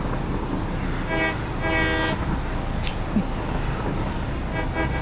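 A train in the Satisfactory video game rolls through a tunnel with a steady, loud rumbling drone, broken by a few short tonal horn-like toots.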